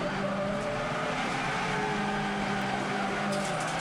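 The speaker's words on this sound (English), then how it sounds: "you could hear the front wheels spinning flat chat as he tried to correct it and get it pointing in the right direction." A front-wheel drive TCR touring car slides with its front wheels spinning and the throttle held wide open at a race circuit, a continuous broad engine roar and tyre noise at moderate distance.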